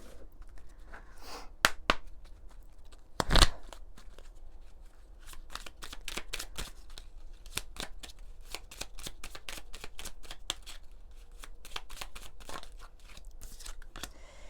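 A deck of oracle cards is shuffled by hand for a reading, giving rapid, crisp riffling and flicking bursts throughout with a few louder snaps, close and fairly quiet, with no talking.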